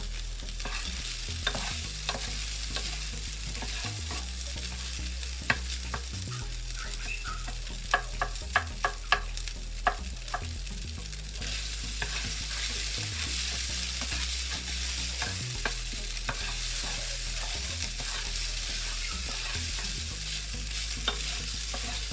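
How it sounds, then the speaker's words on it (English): Rice is stir-fried in a hot pan: a steady crackling sizzle runs throughout, with repeated scraping stirs and occasional clicks of a utensil against the pan, close and alone with no talk. "So we're gonna fry our rice, and then we're gonna add some soy sauce here."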